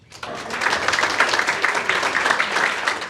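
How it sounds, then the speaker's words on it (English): Comedy club audience bursting into applause, a dense wash of many hands clapping that starts abruptly and holds steady for a few seconds at moderate volume. "by round of applause, who here in this room has children?"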